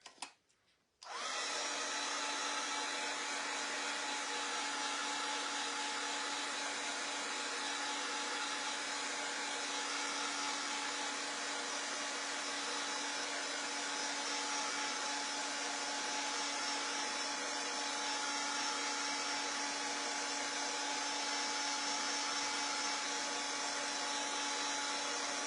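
A hair dryer runs steadily on chalk paint for about 25 seconds after a brief quiet start, giving a loud, constant whirring hum with a few steady tonal lines and no talk over it.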